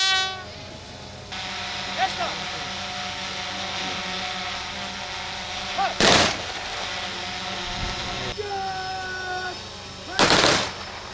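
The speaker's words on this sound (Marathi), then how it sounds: "पोलीस आणि लष्कराच्या प्रत्येकी आठ जवानांच्या तुकडीने हवेमध्ये बंदुकीच्या फैरी झाडून आणि अंतिम बिगुल वाजून मानवंदना दिली" Ceremonial volleys fired into the air by squads of eight police and eight army personnel at a fallen soldier's funeral: two sharp, loud bursts several seconds apart over a steady rumbling background with sustained tonal sounds.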